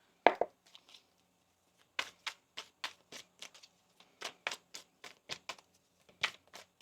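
Tarot cards are shuffled in a quiet room, with a sharp snap at the start, then a series of quick papery riffles and taps in irregular bursts, close and distinct.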